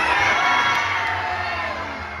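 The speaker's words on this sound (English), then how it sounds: "You throw your hands up in the air and scream as loud as you can like you saw a monster." A crowd of children screams and cheers loudly and continuously at a Fourth of July show at Magic Kingdom, a dense wall of shrill voices and whoops that holds steady before tapering slightly.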